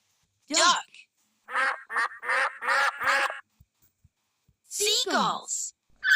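Duck quacks come in a burst of four or five raspy calls, then a longer call after a pause, loud and close with no other sound around them.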